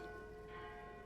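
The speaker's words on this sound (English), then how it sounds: "The bells clang again." Bells clanging as a sound effect in a Final Fantasy-themed tabletop role-playing session, a sustained ringing bell tone that lingers softly for about a second, faint and alone.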